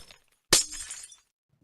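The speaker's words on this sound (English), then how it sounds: "And now take out every glass block" Glass blocks shattering in Minecraft, a single sharp, bright breaking crash with a short tinkling tail, fairly close and alone with no talk.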